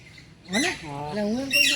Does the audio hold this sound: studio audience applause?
no